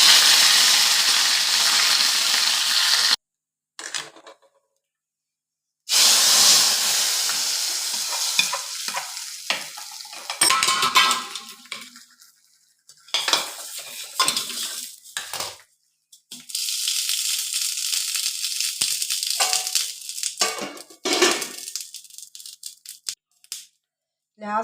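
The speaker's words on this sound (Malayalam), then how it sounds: "കടുക് പൊട്ടി വറ്റൽ മുളക് ഇട്ട് കൊടുക്കാം. കൂടെ കറിവേപ്പിൻ്റെ ഇല." Mustard seeds, dried red chillies and curry leaves crackle and sizzle in hot oil for a gravy dish. The frying is loud, with bursts of hiss broken by short pauses and some stirring and rattling of the pan.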